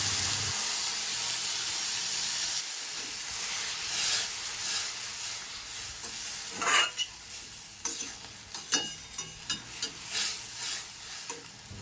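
Water poured into semolina in a hot pan hisses in a loud, steady sizzle at first, then settles into softer bubbling with scattered stirring scrapes.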